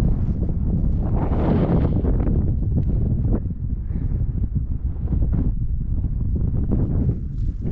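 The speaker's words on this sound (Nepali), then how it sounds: "हावा चाहिँ एकदम बबालै चल्दो रहेछ" Strong mountain wind near Kanchenjunga in Nepal roars and buffets against the microphone in a loud, continuous low rumble with gusty surges, and nobody speaks.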